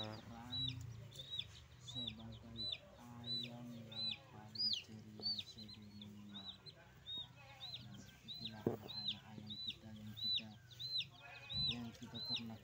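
Chickens cluck and chirp repeatedly, with high peeping calls recurring in a steady pattern over low background murmur, close by.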